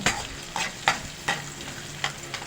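Onion sautéing in a pan for sardines with misua and patola: a close, steady sizzle punctuated by rhythmic spatula strokes about every half second, with no talking.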